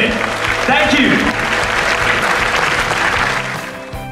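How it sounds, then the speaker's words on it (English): Audience applause at an award ceremony, a steady dense wash of clapping from a large crowd that holds strong and then tapers near the end. "please give yourselves a big round of applause for being here today"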